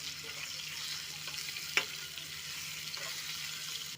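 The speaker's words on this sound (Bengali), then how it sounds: "দেখো আমার তেল গরম হয়ে গেছে, আলুগুলোকে ভেজে নেবো" Potatoes frying in hot oil for dum aloo make a quiet, even sizzle with a single brief clink midway.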